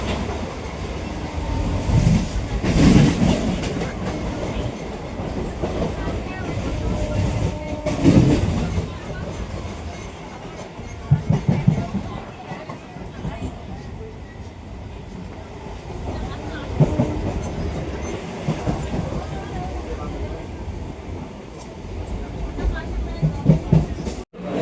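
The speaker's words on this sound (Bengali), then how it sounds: "দেখুন এক্ষুনি ট্রেন চলে আসবে, ট্রেনের অ্যানাউন্সমেন্ট করে দিয়েছে।" A train arriving at a station platform in West Bengal, on the way to Hooghly. Its rumble and clickety-clack run steadily and fairly close amid platform ambience, and voices are heard at times.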